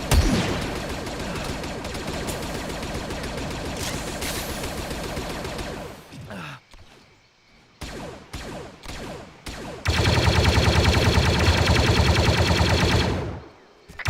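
Heavy automatic gunfire from an Arma 3 infantry firefight, sustained bursts and rapid shots at close range, a brief lull with scattered single shots, then another loud dense volley.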